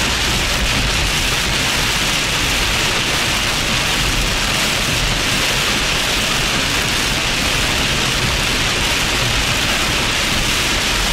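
Steady, heavy rain drums on a vehicle during a storm-chasing drive in the Carolinas, a loud continuous wash of noise with no talking.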